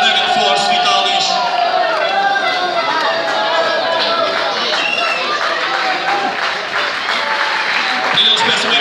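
Loud applause at a youth football tournament trophy ceremony, an international summer tournament, with crowd clapping and cheering continuously while voices chatter and call out over it.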